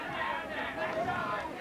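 Crowd at a high school football game, a continuous murmur of chatter and cheering heard from the stands, steady and moderately loud over the short stretch.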